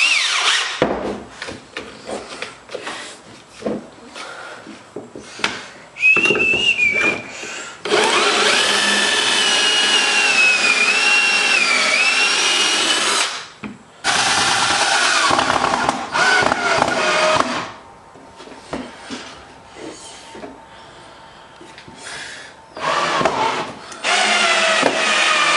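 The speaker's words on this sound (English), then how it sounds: "drill some pocket holes out" A power drill with a pocket-hole bit bores pocket holes into wood in several loud, sustained bursts of whining and grinding, separated by short pauses, with no talking over it.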